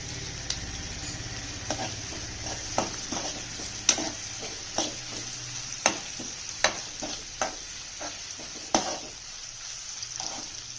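Onions softening in a pan over medium heat for ridge gourd pappu give a low steady sizzle, broken by irregular sharp spatula scrapes and taps against the pan.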